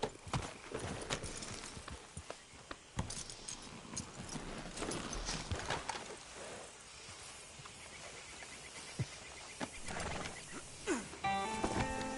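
A horse in Red Dead Redemption 2 walks along with rhythmic clip-clopping hooves throughout, joined by scattered snorts and outdoor game ambience, with no speech.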